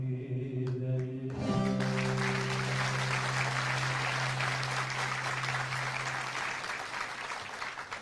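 Concert audience applause at an Anatolian folk music concert in Istanbul, a steady dense wash of clapping from a large crowd, faint and distant, with a sustained instrumental tone fading out at the start.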